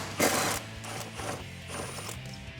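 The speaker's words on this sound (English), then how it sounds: "I'm going to be removing that with a 13mm socket." A ratchet with a 13mm socket and 10-inch extension loosens a brake line bracket on a Jeep Wrangler JL, giving a series of close metallic clicking strokes in quick rhythm after an initial louder clunk.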